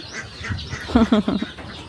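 Duck quacking, a brown duck outdoors during feeding, a short run of four or five harsh quacks in a quick burst, fairly close and moderately loud over faint background noise.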